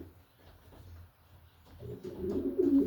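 A stock pigeon cock, a strong, vigorous breeding bird, coos softly in a loft, the low throaty calls rising and growing louder toward the end.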